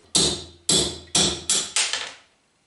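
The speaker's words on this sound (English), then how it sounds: "There's a pin here in this opening to prevent it to go further. Knock it out first." Five sharp metallic hammer blows knock a pin out of a drill press, ringing out in steady succession, each loud strike fading with a brief ring before the next.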